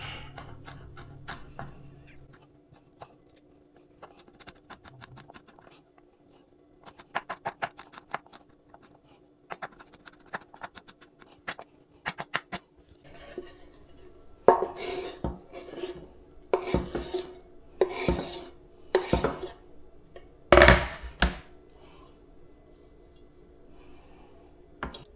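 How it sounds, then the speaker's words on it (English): A knife chopping food on a cutting board while making Cajun creamy chicken: sparse taps at first, then bursts of quick, sharp, close strikes with short pauses between runs and no talking. "Finally chop that up."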